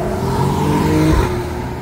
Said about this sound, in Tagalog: Napakaraming po traffic.